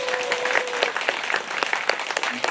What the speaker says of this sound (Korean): 우리 주지스님께 박수 한번